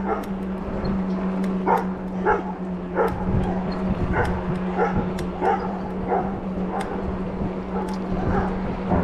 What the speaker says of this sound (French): Elle a été repérée par un chien.